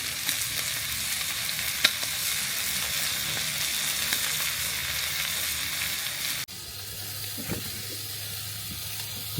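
Steak and vegetables frying in a pan at a creek campsite, a steady broad sizzle throughout with a brief clatter and a shift in tone partway through, no voices.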